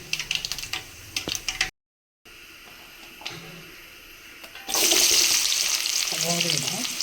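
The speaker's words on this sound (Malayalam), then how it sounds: "പൊട്ടി വരുമ്പോൾ 5-6 ജീരകം ഇടാം." Cumin seeds spluttering in hot oil in a kadai, with scattered crackling and sizzling, a brief silent gap, then a louder, dense burst of sizzle near the end.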